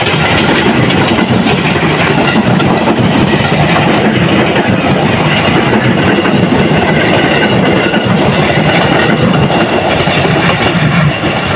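A KRL commuter train leaving Depok station rumbles past loudly and continuously, with dense wheel and rail clatter and a broad roar filling the scene from start to finish.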